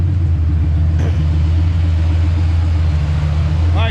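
A 1988 Ford Mustang with a bone-stock 302 block and turbo runs steadily on a dyno. It makes a loud, constant low rumble that fills the whole moment, with a faint voice underneath.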